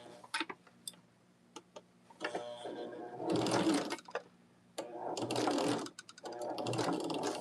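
A sewing machine stitches a quilt block seam in several short bursts of close mechanical whirring, separated by quiet pauses with faint ticking.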